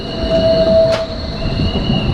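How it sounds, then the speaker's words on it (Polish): Berlin tram rolling along street tracks outdoors, a close, loud passing rumble with a sustained wheel squeal and a brief sharp screech, no voices. "tutaj jest ten tramwaj, który jedzie"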